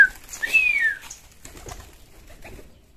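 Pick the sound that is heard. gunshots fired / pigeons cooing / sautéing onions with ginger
pigeons cooing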